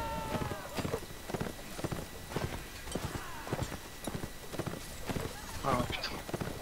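Rapid clip-clop hoofbeats of a galloping horse in a video game, a steady rhythmic patter running throughout at moderate level, with game sounds and voices layered on top.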